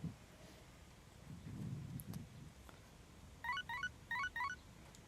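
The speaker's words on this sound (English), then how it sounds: "Oh, phone's going off." A phone alert in the Persona video game chimes in two short bursts of bright repeated tones near the end, after quiet game ambience with a low rumble.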